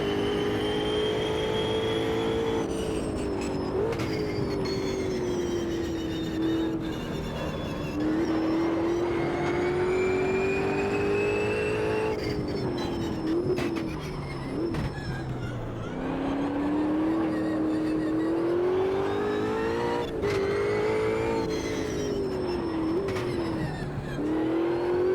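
Race car engine in the Automobilista 2 sim revving hard, pitch climbing and falling through gear changes across the whole stretch, loud, close and continuous, with no talk.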